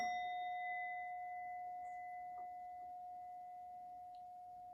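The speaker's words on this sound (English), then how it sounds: "We ring the gong 3 times." A single struck gong rings out in a worship service, its steady metallic tone sustaining and slowly fading over several seconds, alone without voices.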